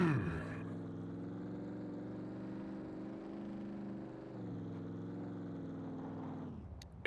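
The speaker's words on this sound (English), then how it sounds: "I can't actually hear it anymore because this car's so loud." Loud, steady car engine drone from the survival video game SCUM, a sustained low harmonic hum holding near-constant pitch with a slight shift midway, then cutting off near the end.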